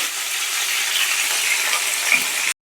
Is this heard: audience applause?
no